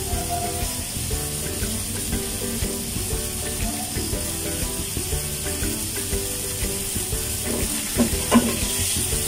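Pork chop steak fries in a pan with an even, hissing sizzle and crackle, punctuated by clicks and scrapes of stirring, moderately loud and constant.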